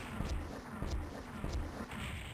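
Cannons fire in DOOM 64 in a steady series of muffled booms, about four evenly spaced blasts, fairly faint.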